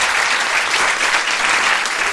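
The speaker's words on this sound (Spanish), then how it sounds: "Pido un aplauso para Josep Guijarro" An audience applauds a guest speaker at a talk, steady dense clapping that fills the room loudly from start to finish, with no voices over it.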